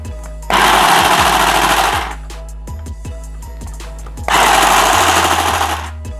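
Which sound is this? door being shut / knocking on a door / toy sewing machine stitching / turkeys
toy sewing machine stitching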